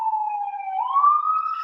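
A single emergency vehicle siren in New York City wails steadily at a distance, one rising tone that carries on its own without other sound.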